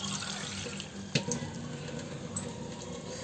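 Water pours steadily into prawn gravy cooking in a pan, a continuous splashing flow with a couple of brief louder splashes partway through, heard close.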